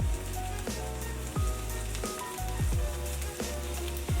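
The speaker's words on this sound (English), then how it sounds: "while the burgers are cooking" Burger patties sizzle in a pan with a steady, soft crackling hiss, largely covered by rhythmic background music with a thumping beat.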